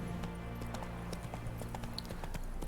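Roach the horse galloping in The Witcher 3 video game, a quick steady clip-clop of hooves over a continuous low rumble of in-game ambience.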